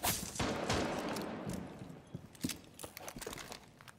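Gunfire in Rainbow Six Siege: a loud burst of shots at the start, followed by scattered sharper cracks and thuds fading into quieter background.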